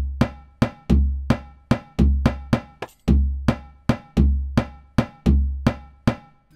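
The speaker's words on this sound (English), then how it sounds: "First we have a drum track with this drum machine with the Indian percussion E-kit." Electronic drum machine running an Indian percussion kit loop, two bars long: sharp, evenly spaced tuned hand-drum hits with deep booming bass strokes on a steady repeating rhythm, close and loud with no voices.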